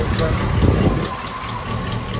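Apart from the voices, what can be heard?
1959 Cadillac Series Sixty-Two engine idling after cold start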